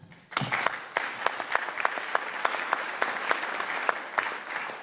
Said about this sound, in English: I think you guys deserve a round of applause.